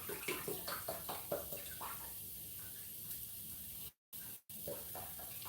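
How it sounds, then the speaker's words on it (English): A cup of stock is poured into a pan for vegan Spanish rice, a quiet, steady hiss of liquid with a couple of brief dropouts and no talking. "we're going to go ahead and pour a cup of stock"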